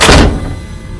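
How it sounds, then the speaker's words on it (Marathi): A door is shut with a single heavy, close thud that booms at once and then dies away quickly, used as a sound effect in a Marathi horror story. "कोयाजीने दार लावून घेतले"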